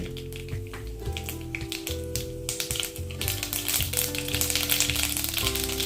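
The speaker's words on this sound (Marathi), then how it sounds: "तेल गरम झालं आता राई घालते" Mustard seeds splutter and pop in hot oil, the tempering for a padwal (snake gourd) and chana dal vegetable, giving dense crackling bursts close by, with no talk.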